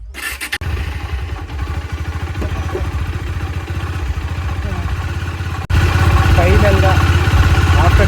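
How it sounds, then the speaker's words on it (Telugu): A Bajaj Dominar motorcycle, left standing for three months, fires up and settles into a steady, throbbing idle close by, then jumps to a louder, harsher run near the end. "ఫైనల్గా ఆఫ్టర్ 3 months తర్వాత సింగిల్ స్టార్ట్ అయితే స్టార్ట్ అయిపోయింది బైక్"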